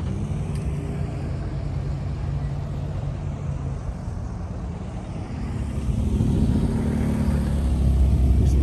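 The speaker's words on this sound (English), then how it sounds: "There's some motorcycles coming." Motorcycles roll past at an outdoor morning car show in Oklahoma City, a steady low engine rumble that swells louder toward the end, with no talking.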